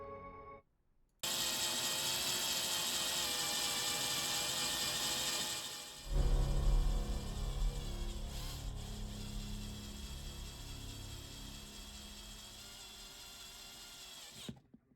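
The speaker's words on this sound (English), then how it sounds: "I drilled a hole where I can put a polystyrene rod to affix my X-wing to later" A small power drill boring a hole in a diorama base whines steadily, then drops in pitch and roughens as the bit bites in, running continuously for several seconds before stopping.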